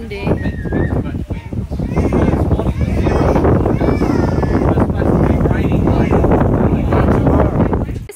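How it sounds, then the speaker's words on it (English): Strong wind buffets the microphone at Rainbow Beach, a loud, steady rumble with continuous gusting that runs throughout, while people talk over it. "Windy. Yeah, very windy."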